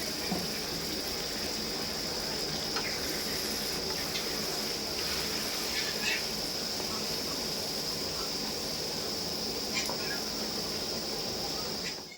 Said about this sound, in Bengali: এই যে বেসন ধোয়া জলটা আমি এটাতে দিয়ে মশলাটা একটু ভালো করে কষে নেব